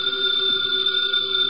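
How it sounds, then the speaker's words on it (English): A telephone rings steadily and loudly in an old-time radio detective drama, a continuous electric bell tone with no pauses and no voices over it. "The phone, if you please, Mr. Goodwin."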